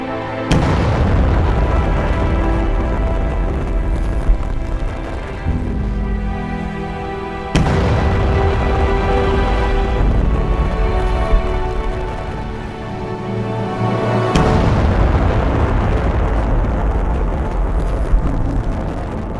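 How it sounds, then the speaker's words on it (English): A massive star's supernova explosion rendered as three deep, loud rumbling booms, each starting with a sharp hit and decaying into a long roar, spaced evenly with no voices. "a high-mass star several times more massive than the Sun runs out of nuclear fusion fuel and collapses under its tremendously large gravitational force and explodes"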